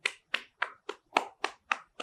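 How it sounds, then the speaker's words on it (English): A single person claps eight times in an even, steady rhythm, each clap crisp and close with silence between. "that's definitely a round of applause"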